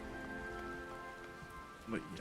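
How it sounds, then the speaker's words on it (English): Rain and storm ambience in the game Final Fantasy XIV, a soft steady patter of rain mixed with sustained musical tones and a brief voice near the end. "And we've got the rain and storm on."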